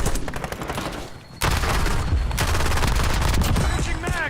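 Gunfire in Call of Duty Warzone: a dense, loud burst of rapid shots, a brief lull, then continuous heavy automatic fire and crackling impacts rolling on to the end, with no speech.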